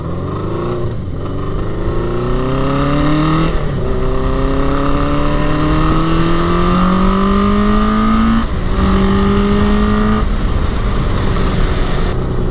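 A Honda CB750 cafe racer on its first ride of the year, running a little rough, its engine climbing through several gears in loud, rising pulls with brief dips at each shift, steady wind roar throughout.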